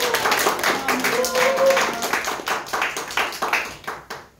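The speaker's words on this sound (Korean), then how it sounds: "큰 박수로 환영해 주시기 바랍니다" A church crowd claps and applauds continuously to welcome a missionary, with many overlapping hand claps that gradually thin out toward the end.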